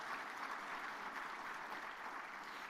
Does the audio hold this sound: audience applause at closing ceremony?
yes